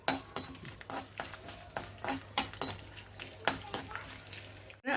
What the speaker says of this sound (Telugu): కొంచెం మెంతులు, ఎండుమిరపకాయలు, మినపప్పు, కొంచెం వెల్లుల్లిపాయలు ఇవి వేసుకొని తాలింపు వేయాలి.